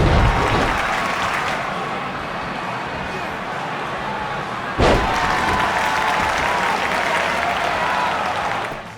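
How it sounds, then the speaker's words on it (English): A large crowd applauds in the Japan Dome arena in WWE 2K19, loud and continuous throughout, with a sharp slam or thud near the middle and the clapping roar carrying on evenly afterward. "you can hear the crowd applauding superstars after performing a move"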